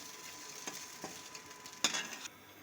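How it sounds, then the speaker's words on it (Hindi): Mutton brain fries in a little oil in a pan with a faint, steady sizzle, broken by a few soft taps and one sharper scrape as the pieces are turned. "देखिए ये समझिए कम तेल में ही, ज़्यादा तेल में इसमें फेन होने लगता है, इसलिए कम तेल में इसको पलट कर सेकना है।"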